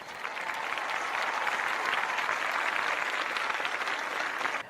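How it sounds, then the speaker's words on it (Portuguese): A classroom audience claps steadily for nearly five seconds, dense and even, rising quickly at the start and cutting off abruptly at the end. "Recebam as palmas!"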